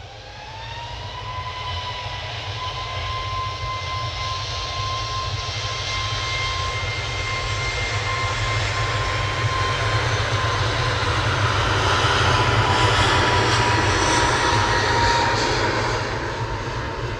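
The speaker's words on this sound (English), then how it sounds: "Ryanair's off to Palma." A Ryanair airliner taking off from Manchester Airport for Palma gives a loud, sustained jet roar with a high engine whine, building gradually over seventeen seconds and easing slightly at the end, with no talking.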